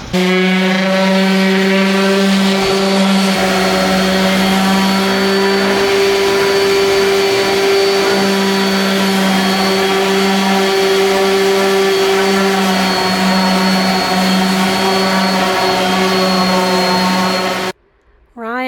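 A power sander works over wooden boards for a DIY headboard, a loud steady close-up whine with a strong constant hum that runs unbroken for most of the span before cutting off abruptly near the end.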